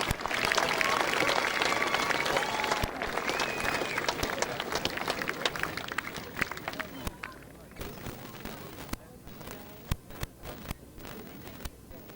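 Polo spectators applaud the grooms at a 1998 UK Gold Cup match, a broad outdoor round of clapping that starts full and thins into scattered individual claps.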